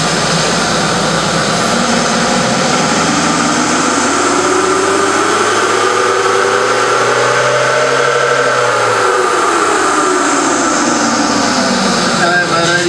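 A diesel Smart car engine revs up in third gear on a dynamometer at a 4x4 show exhibition, a loud, sustained roar whose pitch sweeps upward and then falls back over several seconds.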